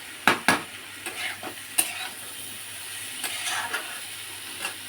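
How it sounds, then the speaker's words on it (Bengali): Onion and garlic stirred and frying in a pan, a steady soft sizzle broken by several sharp spatula knocks and scrapes against the metal, close and clear with no talking. "একটু আধখানা পেঁয়াজ দিয়েছি আর রসুন একটু নাড়াচাড়া করে নিচ্ছি"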